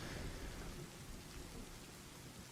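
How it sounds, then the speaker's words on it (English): Heavy rain in a thunderstorm in the video game Shadowrun, a dense steady hiss with a low rumbling undertone throughout, no voices. "Okay, so there's like rain everywhere now."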